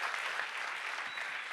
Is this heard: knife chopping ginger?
no